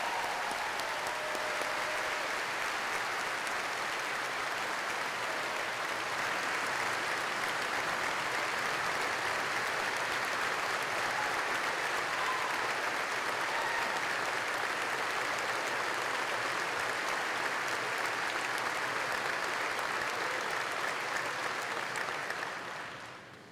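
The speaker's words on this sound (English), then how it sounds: "With that thunderous ovation, I made him stand a little bit longer." Sustained applause from a large crowd at a high school commencement ceremony, dense clapping holding steady for over twenty seconds before cutting off, with no voices standing out.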